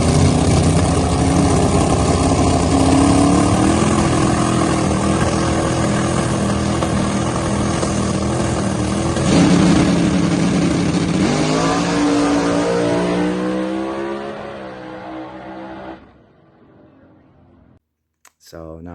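A drag race car engine runs loud and steady, with rising revs building toward the end before it cuts off abruptly, leaving near silence.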